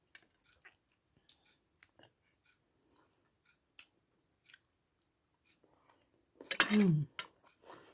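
Pork belly being chewed close up: a string of small, soft mouth clicks and bites spread sparsely through the clip, ending in a short burst of louder voiced sound near the end.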